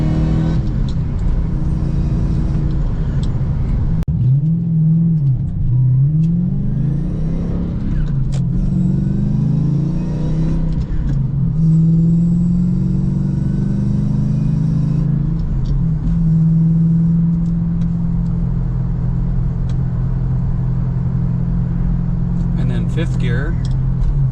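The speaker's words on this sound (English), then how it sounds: "I'm going to go about half throttle. Just roll in. That's half throttle." A supercharged manual Lexus GS400 climbs uphill at half throttle, heard from inside the car as a loud, steady engine drone that rises and falls slightly as it pulls, with someone talking over it.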